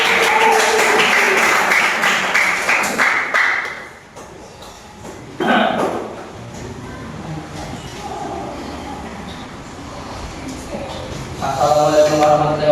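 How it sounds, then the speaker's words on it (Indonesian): A group of students claps for group 1 in a junior high school history classroom. Dense, loud clapping fills the first few seconds, then fades into quieter room noise and scattered voices. "Tepuk tangan untuk kelompok 1"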